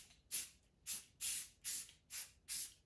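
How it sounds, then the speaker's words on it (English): Rust-Oleum Painter's Touch 2X flat gray primer sprayed from an aerosol can onto a carved wooden duck decoy, heard as six short, evenly spaced hissing bursts, close but soft, with no talking. "I'm going to use Rust-Oleum Painter's Touch 2X Ultra Cover Flat Gray Primer and go ahead and spray it on the bird."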